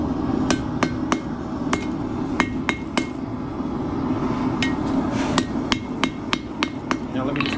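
Hammer blows knocking the edges off a metal stocking hanger, sharp ringing strikes in irregular bursts of two to four, close and loud over a steady low hum.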